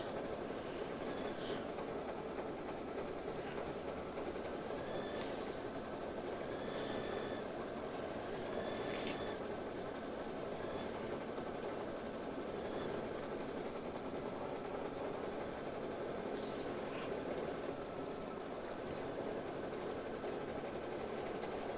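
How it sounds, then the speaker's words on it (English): Kimberbell embroidery sewing machine stitching a sew-and-wash design: a steady, fast mechanical whir with a faint repeating tick, running continuously at moderate volume with no talking. "We sew it, then we wash it."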